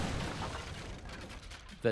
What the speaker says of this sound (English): here comes the 2 lever cannons